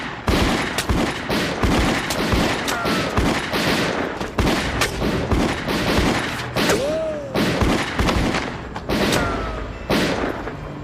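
Rapid bursts of gunfire crack out in irregular volleys, sharp and echoing like shots at a target range, continuing steadily throughout with no voices.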